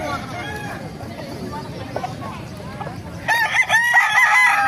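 A Kanawayan rooster crows at the busy Bocaue market, one loud nearby crow rising clearly toward the end over a constant crowd murmur, clucking and people talking.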